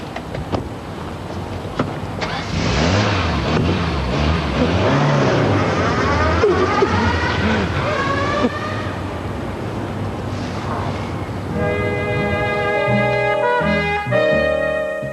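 A car engine starts up and revs as the car pulls away, a continuous motor drone with rising and falling pitch sweeps, then fading as other vehicles pass nearby.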